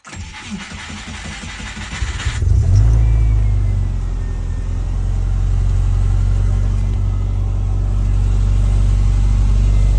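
A Subaru Impreza WRX GC8 with a Prodrive exhaust cranks and starts, then settles into a loud, steady low rumble that holds through to the end, with no voices.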